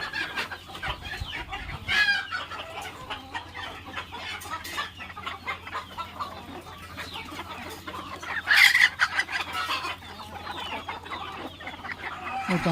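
Hens cluck steadily across a noisy farmyard in the early morning, with one louder burst of clucking partway through amid rustling and background chatter.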